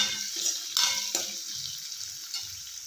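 Onion masala with turmeric sizzles in a hot pan while a spoon stirs it, a steady close frying hiss broken by a few soft scraping strokes.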